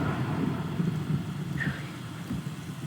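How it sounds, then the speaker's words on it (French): In the video game From the Fog, a thunderstorm sends continuous rain hissing down under a low, rumbling background of thunder, steady and moderately loud with no voices. "il fait littéralement super sombre, on est en plein orage."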